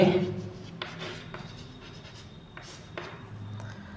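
Pen or chalk writing out Hindi grammar terms, several short scratchy strokes in bursts, faint and close, with a voice speaking over the start.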